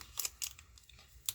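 Scissors cutting out a piece of paper card or vinyl, three or four quick, close snips spaced unevenly, with no talk.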